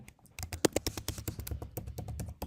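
Rapid clicky keystrokes on a computer keyboard enter login details for a test app, close and steady with brief pauses between bursts, no talk over them.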